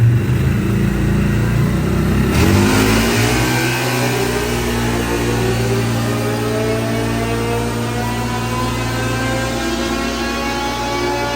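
CFMOTO engine running on a dyno, a loud buzzing rev that climbs sharply early on, then settles into a steady sustained drone, heard close and alone.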